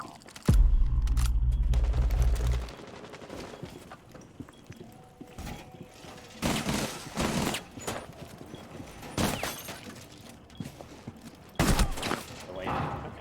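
Gunfire in Rainbow Six Siege, a sustained burst of rapid shots at the start followed by scattered single and clustered shots, some loud and close, with a player talking between them.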